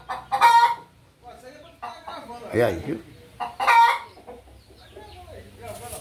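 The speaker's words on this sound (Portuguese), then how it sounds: "É uma galinha cheia de pinta" A spotted hen with about fifteen chicks under her clucks in short bursts on a farm, with a rooster nearby, while someone talks over the sounds.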